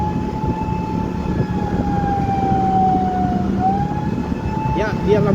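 An ambulance siren wails steadily and fairly close, heard from a vehicle following it from a public hospital while carrying a body, holding a long tone that dips and rises again over constant road rumble, with brief chirps near the end.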